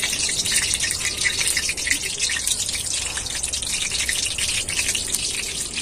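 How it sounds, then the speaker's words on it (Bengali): Layered khaja pastries fry in moderately hot oil, a steady, bright sizzle and crackle that continues throughout at close range. "এবার আমি খাজাগুলোকে ভেজে নেব।"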